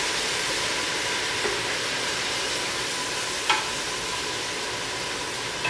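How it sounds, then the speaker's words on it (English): Onion and leek sauteing in a pan give a steady, dense sizzle with occasional faint pops and clicks, continuous and close throughout. "sauteing it in the pan."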